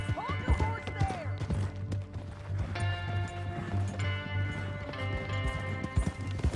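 Horse hooves clip-clop in the game Red Dead Redemption 2, irregular soft thuds under a steady hum, with music-like tones and a brief whinny-like sweep early on.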